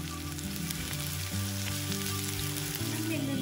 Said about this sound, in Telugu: ఉల్లిపాయలు వేగుతున్నప్పుడు 1 టీ స్పూన్ అల్లం వెల్లుల్లి పేస్ట్ వేసి వేయించుకోండి